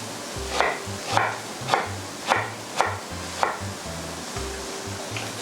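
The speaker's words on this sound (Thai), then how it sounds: "หั่นเป็นแว่นเลยละกัน" Knife slicing fresh ginger into rounds on a cutting board, a steady series of about eight crisp chops roughly every half second, close and clear, with a low hum and faint kitchen noise in the background.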